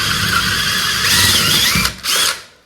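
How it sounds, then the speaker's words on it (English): A power drill with a 20mm spade bit bores a hole during a plumbing job, whining loudly and steadily, briefly cutting out near the end before spinning up again and winding down. "Then what you want to do is 20mm spade bit in your drill. Just going to drill that out."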